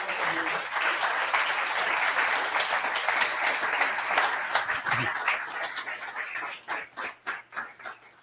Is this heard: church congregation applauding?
yes